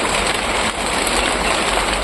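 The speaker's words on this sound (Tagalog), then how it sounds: "Umuulan ngayon." Rain falling, a dense, even hiss of drops pattering steadily and fairly loud, with no pauses.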